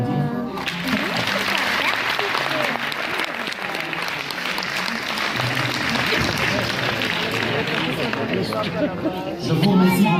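Audience at a French hypnosis gala show applauding steadily and loudly for about ten seconds, a dense sustained wash of clapping with a slight swell near the end.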